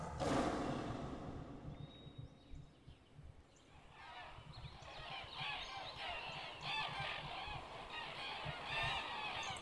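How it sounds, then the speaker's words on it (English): A flock of seagulls cries in Final Fantasy VII: a few honking calls at first, then a dense, overlapping chorus of squawks that keeps going to the end. "That's a lot of seagulls."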